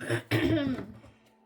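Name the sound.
throat clearing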